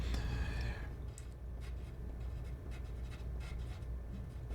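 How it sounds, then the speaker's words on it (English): Pen or pencil scratching across paper during a tabletop dungeon game session, a short, close, steady scribble with soft rustling and no talk. "I gotta write that down"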